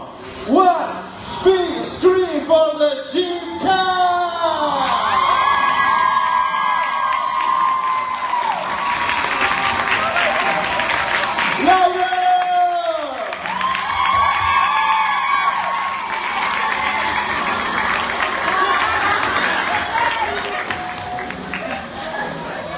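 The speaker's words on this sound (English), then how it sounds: "One big scream for the Jibcon7!" A large crowd at the Jibcon7 fan convention in 2016 screams, cheers and applauds loudly and continuously, with high-pitched shrieks rising and falling in waves throughout.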